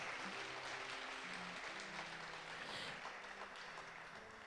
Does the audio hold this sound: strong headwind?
no